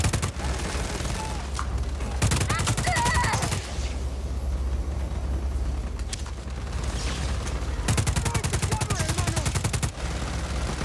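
Gunfire in the video game Just Cause 4: loud bursts of rapid automatic shots in two long stretches, separated by quieter game ambience with scattered single shots and booms.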